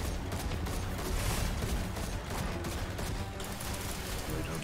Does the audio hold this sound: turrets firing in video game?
yes